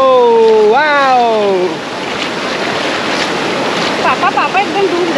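Sea waves rolling onto a beach, a continuous broad wash of surf with wind over it, loud and close, with voices heard across the shore.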